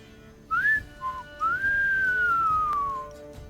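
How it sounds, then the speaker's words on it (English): A mocking whistle from Judy, a character in the video game Cyberpunk 2077: a short rising chirp, a brief low note, then a long sliding whistle that drifts slowly downward, clear against a quiet background. "she mockingly whistles at you like you're crazy"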